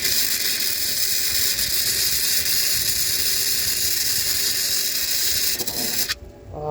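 A Tooliom MIG-180 Pro welder lays a short bead, giving a loud, steady, close crackling buzz that holds for about six seconds before cutting off abruptly.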